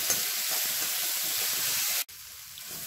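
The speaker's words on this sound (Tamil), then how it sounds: "இது எல்லாமே நல்லா வதக்கணும் மசாலி வர்ற அளவுக்கு" Masala with coriander and mint sautéing in a pan gives a steady, close sizzling hiss that runs unbroken and then drops briefly near the end before carrying on more quietly.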